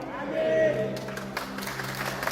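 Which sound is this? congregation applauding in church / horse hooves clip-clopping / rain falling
congregation applauding in church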